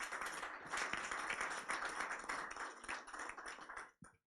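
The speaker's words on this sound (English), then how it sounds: "And I think that deserves a round of applause." Audience applause at a signing ceremony for a letter of intent on the NLNG Train 7 project, dense clapping at moderate level that holds steady before fading out abruptly near the end.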